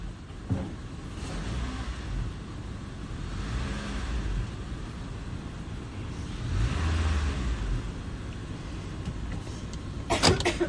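A car engine revved with heavy throttle while checking for an engine rattle caused by low, dirty oil: a low rumbling swell that rises and falls, with a sharp clatter at the end.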